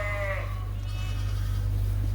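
Sheep bleat in a lambing barn on a farm, a short clear call near the start, then only a steady low hum for the rest.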